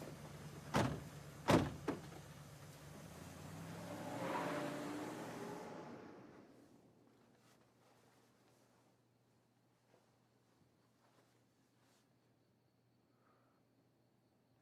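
Two sharp car-door slams come close together, then an engine starts and the car pulls away, its sound swelling briefly before fading into near silence.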